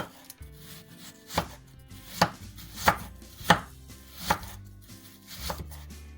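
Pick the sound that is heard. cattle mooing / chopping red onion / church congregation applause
chopping red onion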